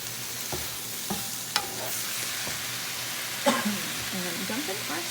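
Quinoa fried rice with shrimp is stirred in a hot pan, giving a soft continuous sizzle with occasional spoon scrapes and taps against the pan. A voice murmurs faintly in the background near the end.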